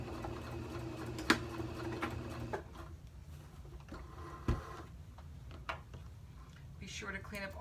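A sewing machine stitches down the folded waistband of a man's trousers, a quiet, rapid mechanical patter in the first few seconds. Soft clicks and handling noises follow, and someone talks.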